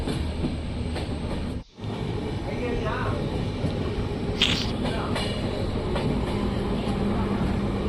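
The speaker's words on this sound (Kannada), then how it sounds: "ನಮ್ಮ ಟ್ರೈನು 1 ಅವರ್ ಲೇಟಾಗಿ ನಮ್ಮ ಚಿತ್ರದುರ್ಗ ರೈಲ್ವೆ ಸ್ಟೇಷನ್ಗೆ ಎಂಟ್ರಿ ಆಗ್ತಿದೆ" A late-running train rolls into Chitradurga railway station, a steady, close rumble of the cars on the rails with a faint hiss on top. Voices are audible beneath the noise.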